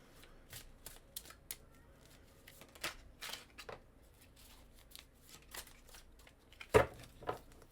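Tarot cards being shuffled in short crisp riffles and flicks, quiet and close, with a sharper snap of cards near the end.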